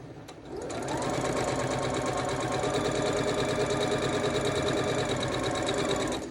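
Sewing machine stitching a quilt block from precut fabric, starting up and then running at a fast steady rhythmic chatter, close and loud with no pauses.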